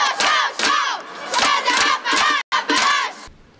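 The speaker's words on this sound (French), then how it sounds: "C'est devant cette foule survoltée" An excited crowd at a curling event at the Jeux du Québec in Saguenay roars and shouts in loud repeated surges, broken by a brief gap, with no talk over it.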